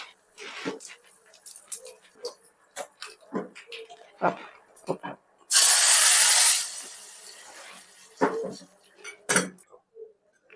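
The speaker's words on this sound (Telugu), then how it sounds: "పోపు వేయంగానే మూత పెట్టేస్తాం" A loud burst of sizzling hiss erupts from hot oil as mustard seeds, fenugreek, dried chillies and asafoetida hit the pan, lasting about a second before fading, with clattering and talk around it.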